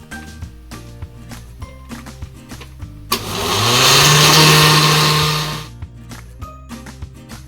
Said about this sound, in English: We're gonna use the blend or puree function, and we're gonna use a low speed